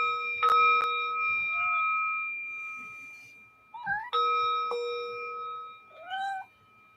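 A meditation bell rings twice with clear sustained metallic tones that slowly fade, each strike sharp at onset and lingering, with a faint wavering voice-like tone between the strikes.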